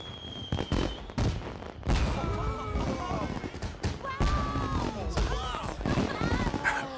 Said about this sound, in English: Fireworks blossom across the night sky, and we sigh in awe